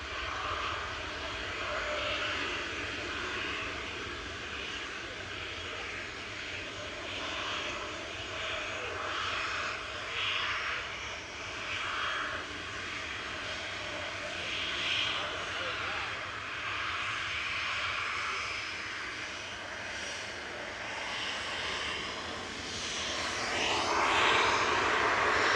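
A TUI jet airliner run by GetJet at Manchester Airport sounds as a faint, distant engine drone that holds steady and rises slightly at the end, with light talk in the background.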